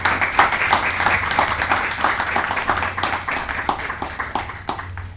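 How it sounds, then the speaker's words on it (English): Audience applause for a guest professor at a leadership lecture event, dense sustained clapping from a crowd throughout, moderately close with a low hum beneath. "A round of applause"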